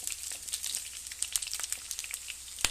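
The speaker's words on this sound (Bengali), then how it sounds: "ফুলকপিগুলো আমি হালকা লাল করে ভেজে তুলে নিচ্ছি।" Cauliflower florets frying in hot oil for a cauliflower roast, a steady crackling sizzle with scattered sharp pops, close and fairly quiet, with no talking.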